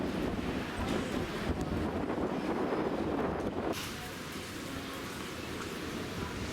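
Strong wind gusts across a hilltop town in Tuscany, roaring steadily into the microphone as a dense, loud rush that eases slightly partway through, with no voices over it.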